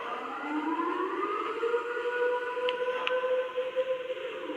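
Siren Head's wailing siren in a horror video game, long rising and sliding tones that hold in a steady, eerie drone, fairly loud and alone.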